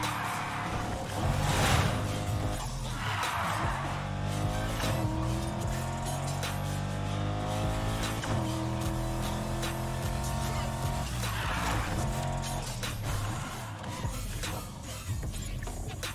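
Car engine revving and tires skidding in the Need for Speed Heat racing game, a loud continuous engine drone with shifting pitch and bursts of tire squeal, with faint talk at moments.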